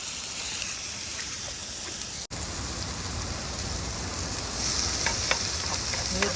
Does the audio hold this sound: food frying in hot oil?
yes